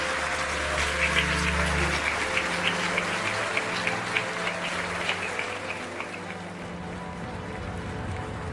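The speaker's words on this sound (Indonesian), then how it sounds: "Selamat, berikan dia tepuk tangan." Steady applause from an indoor audience congratulating a game winner, a dense continuous patter of clapping with faint background tones underneath, no voices.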